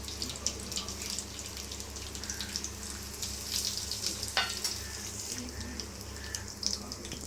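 Whole spices (cinnamon, cloves, fennel, cardamom and bay leaf) sizzle steadily in hot ghee, with a constant fine crackle and a few sharp clinks of stirring.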